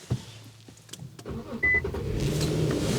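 An Infiniti Q50 started with its push-button ignition: after a quiet moment the engine catches and settles into a low, steady rumble close by, with a brief electronic chime partway through.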